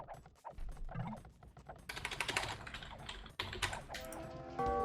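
Rapid computer keyboard typing, a steady clatter of keystrokes close up during an Age of Empires-style 1v1 cup match, with game sounds and faint background noise mixed in.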